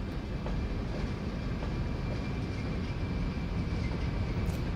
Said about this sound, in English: Huge, huge coal train.